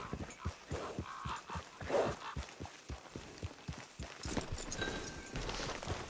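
Hooves of a horse clip-clopping at a steady walking pace in Red Dead Redemption 2, the evenly spaced thuds close and fairly quiet over soft outdoor ambience, with no talking.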